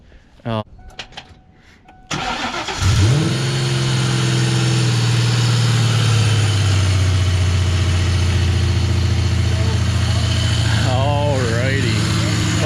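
A Ford Mustang fitted with shorty headers and glass-pack mufflers fires up after a brief crank and settles into a loud, steady, rumbling idle close by, with a short spell of talk at the very start before the engine catches.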